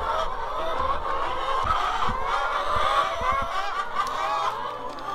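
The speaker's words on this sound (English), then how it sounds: "but the chickens, they're kind of nice." A flock of farm chickens clucks and murmurs at close range in a continuous busy chatter, with a few low thumps and knocks from the coop mixed in.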